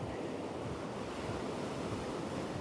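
Surf washing onto a quiet beach on Koh Chang at high tide, a steady, full wash of breaking water heard up close without pause, with some wind rumble on the microphone.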